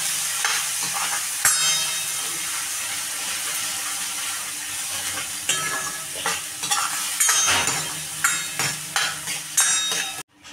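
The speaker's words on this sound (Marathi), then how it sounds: "आता आपण हे सगळा मसाला तेल सुटेपर्यंत भाजून घेणार आहोत" Masala of garlic, byadgi chili powder and garam masala roasting in oil in a pan while stirred. A continuous steady sizzle runs throughout with repeated scraping stir strokes; no voices.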